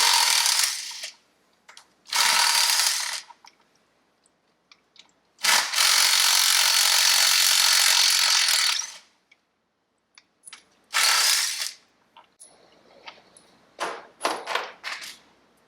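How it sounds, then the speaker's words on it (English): Impact wrench loosening 12 mm engine bolts, loud close bursts of rattling whirring in several runs of one to four seconds separated by quiet gaps, ending in shorter clicks and brief taps, with no talk. "I don't always recommend using an impact. I only am because I know these bolts have been broke loose previously."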